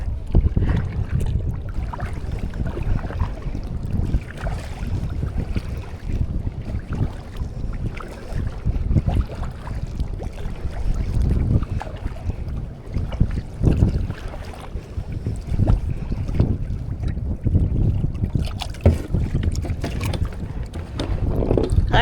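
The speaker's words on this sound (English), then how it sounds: "And the wind." Wind gusts buffet a boat out in a foggy harbor on Block Island, a loud continuous rumbling roar with rising and falling surges and no talk.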